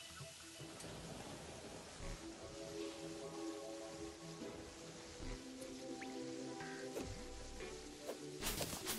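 Soft, steady rain patters in the video game Terraria, a faint continuous hiss sprinkled with small drips.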